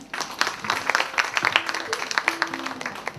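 An audience applauds at a literary award ceremony with scattered, uneven clapping, moderately close and fairly light.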